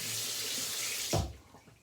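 Tap water runs steadily while a straight razor is rinsed during a shave with Cremo cream, a continuous hiss that swells with a brief splash near the end, then eases off.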